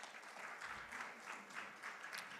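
Applause from a conference audience at a morning panel on corruption and capital flows in Africa, a fairly quiet, steady patter of clapping that swells in soft waves for a couple of seconds.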